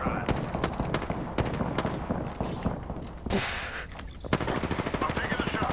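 Gunfire in the battle-royale shooter Apex Legends, rapid repeated shots rattling through a busy mix of game effects, loud and fairly close, with a short hiss in the middle and a voice speaking beneath.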